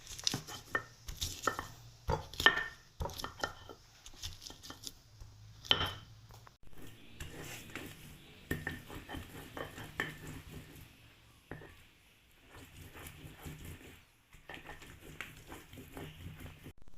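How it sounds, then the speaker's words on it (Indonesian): Chili, ginger, garlic and shallots are ground in a stone mortar, giving irregular, moderately faint knocks and scraping grinds that repeat in uneven bursts. "Kemudian ulek bumbu hingga halus."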